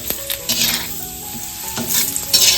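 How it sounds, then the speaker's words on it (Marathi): Papad frying in hot oil on a flat pan, steady close sizzling and crackling with brief scraping stirs, loud and continuous with no talk. "इकडे ना आता पापड तळून घेतोय"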